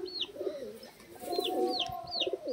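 Several Giribaz pigeons coo in a loft near Haldia, Kolkata, with low rolling calls that repeat over and over, sharper higher chirps mixed in, all close and moderately loud with no talking.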